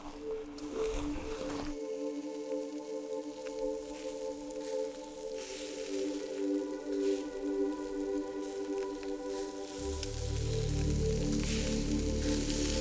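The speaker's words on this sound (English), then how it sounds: "meat sizzling over the fire" Meat frying in hot oil over an open fire in South Africa, a steady close sizzle with a broad hiss running throughout, swelling louder near the end.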